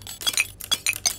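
Glassware clinks in the surgery video game Surgeon Simulator, four or five short, bright chinks spaced unevenly, close and clear with nothing else around them.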